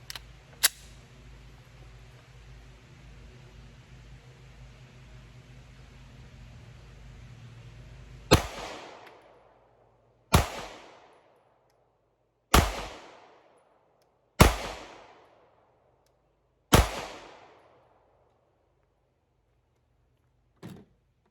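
A Walther PPQ pistol fires five Blazer Brass 124-grain rounds at an outdoor range, five sharp, loud reports spaced about two seconds apart, each decaying quickly, after a low steady background hum.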